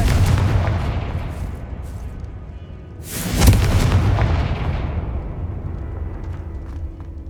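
A spell explodes in Hogwarts Legacy, a loud boom with a sharp crack near the middle that rolls into a long rumbling decay over a steady low game background.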